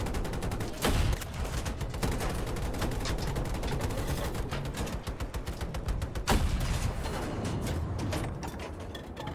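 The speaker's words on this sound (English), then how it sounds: "let's lay down some suppressive fire here" Sustained bursts of automatic gunfire in the video game Battlefield 2042, loud and close, with rapid rattling shots running nearly the whole time and a couple of heavier blasts, no talking.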